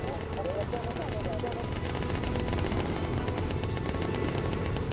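Bomber gunners in the Bomber Crew video game firing at enemy fighters with incendiary ammunition: continuous rapid machine-gun rattle over a droning aircraft engine, with someone talking over it.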